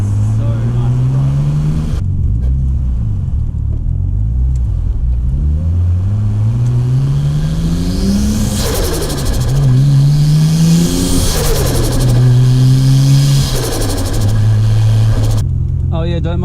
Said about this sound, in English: you guys can just hear this turbo because it sounds so sick